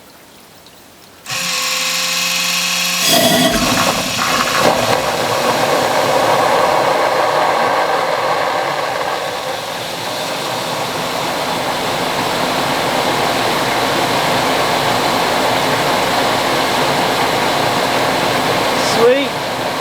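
An off-grid micro hydro Turgo turbine with four nozzles spins up with a sudden rush of water and a rising whir, then settles into a steady loud hiss and hum, with a brief click near the end.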